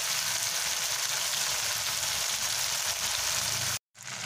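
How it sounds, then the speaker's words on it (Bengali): Prawns frying in hot oil give a steady, close sizzle and crackle for the whole stretch, with a brief drop-out near the end before the sizzling resumes. "চিংড়ি মাছটাকে ভালো করে আমি ভেজে নেব।"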